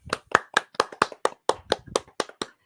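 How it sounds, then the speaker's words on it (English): A small audience claps, giving about a dozen sharp, evenly spaced hand claps in a steady rhythm, close and distinct rather than a dense wash of applause. "Everyone give him a round of applause."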